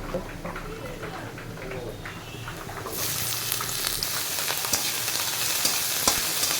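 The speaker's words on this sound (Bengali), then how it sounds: "একে একে পেঁয়াজ কুচি আর লঙ্কা কুচি এগুলো সব দিয়ে দেব" Chopped onion and green chili frying in hot oil in a home kitchen, a steady broadband sizzle that jumps louder midway as the pieces hit the pan, continuing alone at close range.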